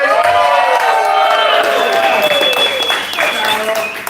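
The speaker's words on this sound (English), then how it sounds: "Let's make some noise for Maluch and Physics!" A loud crowd at a beatbox battle cheering, whooping and clapping together, with shouting voices rising over the roar.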